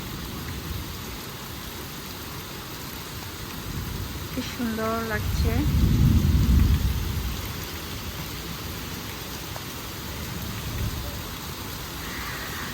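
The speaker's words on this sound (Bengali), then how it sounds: "রাত্রে একদম ঝুম বৃষ্টি আসলো" A heavy night downpour with wind makes a dense, steady hiss, and a low rumble swells in the middle. A voice speaks briefly over the rain.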